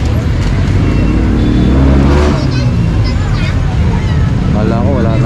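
A motorized tricycle passes in busy road traffic, its engine a loud, close rumble mixed with other vehicles and street babble, with people talking over it.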